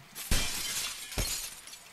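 Glass shatters twice in the Happy Wheels video game, two loud close crashes about a second apart, each followed by a tinkling, decaying spray of shards with no talking.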